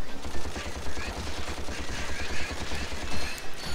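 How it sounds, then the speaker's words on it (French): Rapid machine gun fire in the Ratchet & Clank video game, a fast unbroken rhythm of close, punchy shots running throughout with a busy noisy backdrop. "faut plutôt utiliser la mitrailleuse, au moins je peux les tuer à distance"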